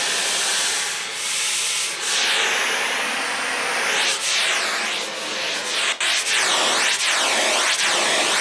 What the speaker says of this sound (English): that's the same pink noise source into both. Now it's polarity reversed to one side.